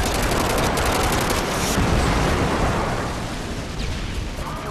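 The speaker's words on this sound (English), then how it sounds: "Friendly airstrike inbound." A friendly airstrike in a first-person shooter game on an Afghan map, dense rolling explosions with rapid gunfire crackling over them, loud and continuous throughout.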